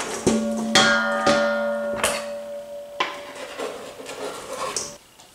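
Food being tipped into a metal pan while cooking Armenian dishes, a run of sharp clanks and ringing metallic knocks, several separate impacts that ring on and fade, with no talking.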